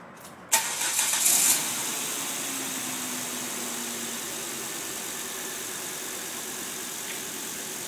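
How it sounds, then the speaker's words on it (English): An engine cranks and catches after about half a second, a brief louder burst of revving, then settles into a steady, smooth idle heard up close for the rest of the clip with no talking. "I'm going to go ahead and fire up the engine so you can see how smooth it runs."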